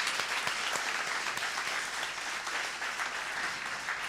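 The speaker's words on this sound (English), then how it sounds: "everyone should be giving him a huge round of applause for this" An audience at a celebration of a new bhajan album gives a steady, full round of applause lasting throughout, dense and continuous with no talk over it.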